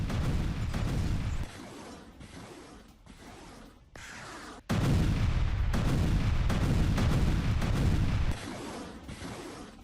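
Artillery fire from an attack in Avdiivka, heavy repeated booms and rumbling blasts in loud bursts with quieter gaps between, dense and close, no speech.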